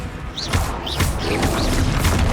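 Confringo and Bombarda explosion spells fired in Hogwarts Legacy: a rapid series of four or five bursts, each with a bright whistling streak and a crackling blast, over a continuous low battle rumble.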